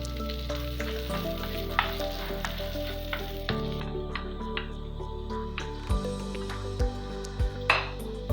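A pan holding a little oil, reused after cooking sausage, crackles with a low sizzle, while a steady hum runs underneath and several sharp knocks and scrapes of utensils ring out toward the end.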